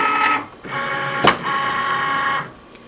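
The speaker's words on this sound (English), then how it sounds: "So I'm just going to load my mat into the Cricut." A Cricut cutting machine drawing in a cutting mat gives a close steady motor whir with a brief sharp click in the middle, then stops, with no talk.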